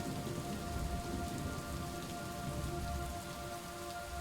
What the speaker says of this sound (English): Oh, I love the sound of the rain.